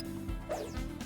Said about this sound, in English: dog opens its mouth wide as it hums back at her.